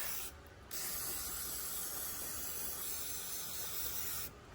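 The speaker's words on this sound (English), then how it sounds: "maybe a spray bottle with soapy water will work" A long, steady hiss of a spray bottle spraying continuously for about three and a half seconds, close up, with brief quieter gaps at the start and end.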